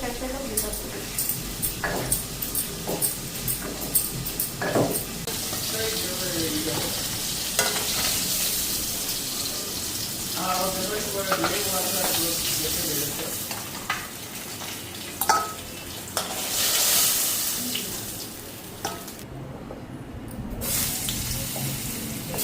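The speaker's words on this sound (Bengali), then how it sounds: "আগে আলুটা হালকা ফ্রাই হোক" Potatoes sizzling and frying in a pan, a steady close crackle with occasional stirring scrapes and clinks, joined by a brief rush of running water near the end.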